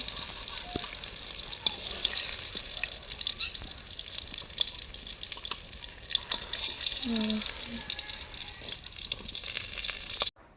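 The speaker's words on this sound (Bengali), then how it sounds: "এরকম করেই সবগুলো বেগুন ভেজে নেব।" Eggplant slices fry in hot oil with a steady, close crackling sizzle and occasional light pops throughout.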